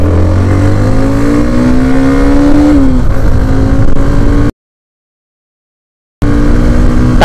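A Hero Xtreme 125R motorcycle accelerates hard, its engine note climbing steadily in pitch with a gear change, then the roar cuts out abruptly and resumes loud and close.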